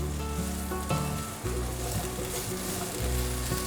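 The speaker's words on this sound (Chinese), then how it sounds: "备个平底锅，锅内放入少许油，把马铃薯放进来，炒香。" Potatoes stir-frying in a little oil in a flat pan, a loud steady sizzle broken by a few scraping stirs of a utensil, close up with no talking.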